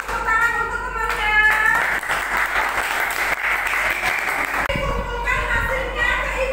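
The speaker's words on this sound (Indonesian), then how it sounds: "Semuanya beri tepuk tangan untuk temannya." Children in a classroom applaud a student group, a dense wash of clapping that swells and holds for several seconds, with kids' voices chattering over it before and after.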